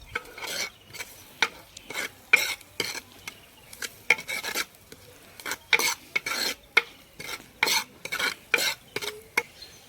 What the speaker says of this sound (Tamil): வெங்காயம் நல்லா வணங்கினதுக்கப்புறம் நம்ம தக்காளியை போட்டுக்கிறோம்.